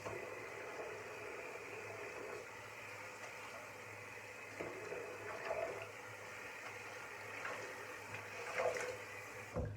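Lukewarm tap water runs steadily from a bathroom faucet into a sink while a face is rinsed, a soft continuous hiss with faint splashes and no voices.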